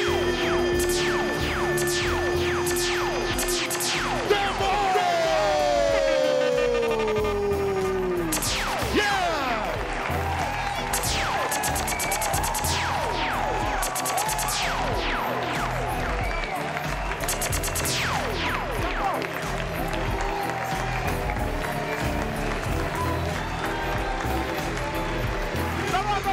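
A crowd cheering and applauding at a celebration in a maquis bar, a steady roar running throughout, with an announcer talking over it.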